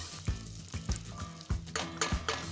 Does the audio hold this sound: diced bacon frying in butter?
yes